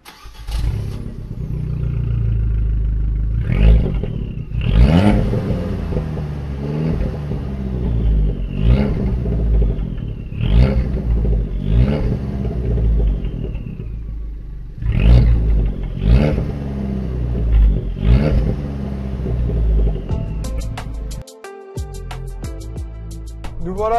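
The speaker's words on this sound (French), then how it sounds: "on va vous faire écouter la sonorité du Records Monza" A near, loud Abarth 595 Competizione 180 hp fitted with a Record Monza exhaust revs in a series of about seven sharp blips over a rumbling idle, ending with a brief clatter.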